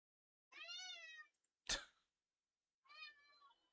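A pet cat meows twice close by, each a drawn-out, wavering cry separated by a brief sharp snort or sneeze-like burst, in an otherwise quiet room.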